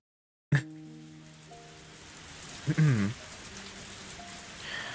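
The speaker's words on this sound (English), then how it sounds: "I didn't think it would rain so hard" Rain sound effect in the Higurashi: Matsuribayashi visual novel, a steady wash of heavy rainfall starting abruptly after a sharp onset, with faint tonal chimes and a brief swelling tone partway through.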